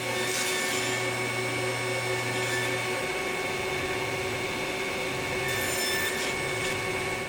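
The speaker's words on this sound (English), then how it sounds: "Next, I need to cut these to length, and I'm going to use my mini table saw sled to do that." A mini table saw with a sled cuts small wood pieces, a loud, steady motor whine throughout, with the blade's rasp into the wood rising and falling across the cut.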